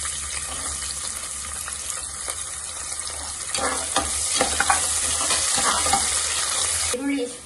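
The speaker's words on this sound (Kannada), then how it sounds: "ಈರುಳ್ಳಿ ಫ್ರೈ ಆಗಿದೆ." Thin-sliced onions fry in a pan for egg biryani, a steady sizzle with stirring scrapes and clinks that grows busier midway, heard close with no talk.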